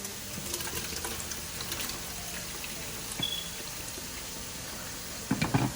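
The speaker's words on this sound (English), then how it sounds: "So we're gonna move it into this pot and add the water." Water runs and splashes into a cooking pot for beef and vegetable soup in a soft, steady trickle, with occasional clinks and a louder clatter near the end.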